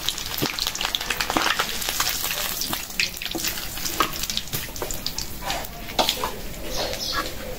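Tangra fish frying in hot oil in a pan, giving a steady, close sizzle and crackle with scattered spitting pops that run without a break.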